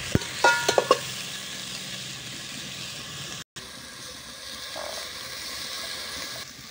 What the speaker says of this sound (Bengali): এতে কিন্তু আমি পেঁয়াজটা ভেজে নিচ্ছি